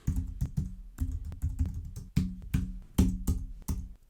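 Steady bursts of keystrokes on a computer keyboard, close and crisp, with rapid clicking runs broken by short pauses and no voice.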